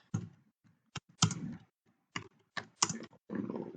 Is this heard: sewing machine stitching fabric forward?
no